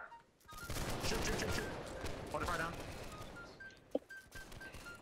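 Musket volley fire in the video game Holdfast: Nations at War, a dense crackling burst of many shots that swells and carries through the clip, with one sharp report near the end and voices talking over it.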